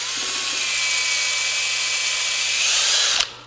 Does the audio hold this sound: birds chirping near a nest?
no